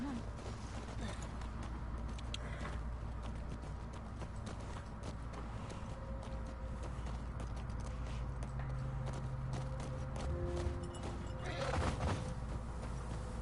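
Horse hoofbeats in The Last of Us Part II clip-clop steadily at a walking pace beneath a constant low rumble, with a faint voice now and then.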